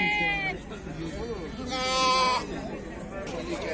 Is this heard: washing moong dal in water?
no